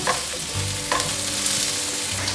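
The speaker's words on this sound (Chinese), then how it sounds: "天贝、豆干、马铃薯，快速翻炒。" Tempeh, dried tofu and potato pieces stir-fried quickly in a wok, a loud, continuous oily sizzle with scraping and tossing sounds from a spatula, close and unbroken.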